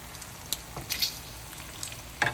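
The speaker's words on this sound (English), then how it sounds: "We're browning the ground beef, 2 pounds, and we'll be making the bacon fat." Two pounds of ground beef brown in a pan with a quiet, crackly sizzle, broken by a few sharp scrapes and pops from a spatula.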